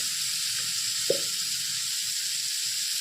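Vegetables with turmeric, salt and green chili sauté in a pan for a Bengali singi fish curry, a continuous hiss and sizzle with a single short clink partway through.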